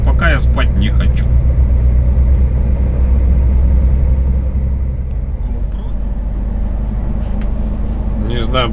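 A heavy low-bed trailer brakes on a road, heard as a steady loud low rumble of the truck and traffic with brief squealing brake tones at the start and end, while a person talks over it.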